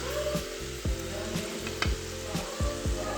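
Homemade french fries sizzle steadily in hot oil while a utensil knocks and scrapes at a regular rhythm, roughly every half second, close and clear. There is no talking.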